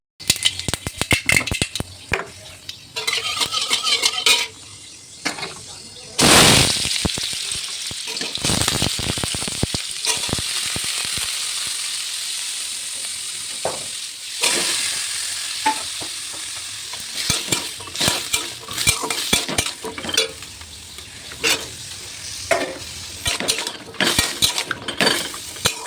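Potatoes, tomato, pumpkin, pointed gourd, ridge gourd and carrot fry for a curry, hissing in the pan while a utensil scrapes and clinks against it in uneven bursts.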